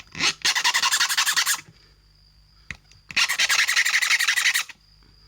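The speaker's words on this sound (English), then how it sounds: "What I'm trying to do is to file and flatten the tip of the screw, so don't mind the noise." Two long bursts of harsh, rhythmic rasping as a metal file is drawn back and forth over the tip of a screw, separated by a quiet pause with a faint click.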